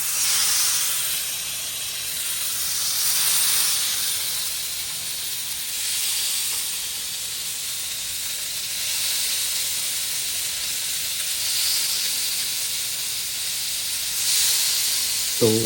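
Fish pieces fry with curry leaves in hot oil, giving a continuous steady sizzle and hiss that swells and eases in slow waves and never stops.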